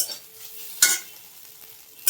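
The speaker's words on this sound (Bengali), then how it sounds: "আর একটা ডিম ভেজে নিচ্ছি" An egg fries in a pan with a steady sizzle while a utensil stirs and scrapes it, giving two sharp metallic scrapes about a second apart, close and clear with no talking.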